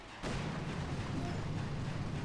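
A boom cannon being destroyed in a base-attack video game: a dense, sustained rumbling roar that starts abruptly after a brief quiet moment and holds steady and loud for about two seconds, with no talk over it.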